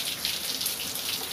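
Monsoon rain falls on a tin sheet roof, a continuous soft hiss of drops with a light patter on top, steady and fairly close, with no talking.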